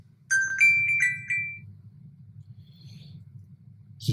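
Mobile phone ringtone chiming a short run of bright electronic tones near the start, fading out under a low steady room hum, with no talking.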